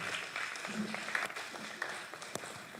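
An audience at a football association awards event applauds after a regional chair is introduced, a brief burst of scattered clapping mixed with background murmur and faint voices.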